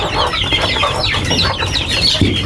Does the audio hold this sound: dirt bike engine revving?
no